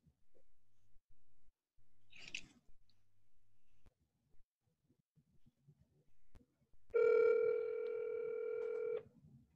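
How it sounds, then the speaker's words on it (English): A telephone dial tone rings out steadily for about two seconds near the end, loud and clear, after a brief click and some faint background rustling, with no talk. "Hold on, I'm gonna get Linda on the phone"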